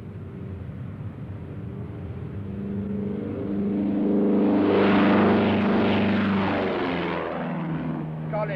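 A small propeller plane's engine swells from a low drone to a loud roar as it passes close, then eases slightly.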